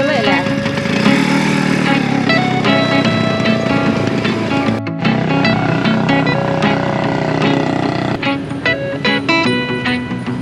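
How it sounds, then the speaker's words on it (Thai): A motorized three-wheeler taxi (samlor) rides through the streets of Pakse, its small engine buzzing and rattling continuously close by, with clicks and knocks from the ride and a brief drop partway through. "ไม่ใหม่ต้องได้ขี่ได้สามล้อแบบนี้"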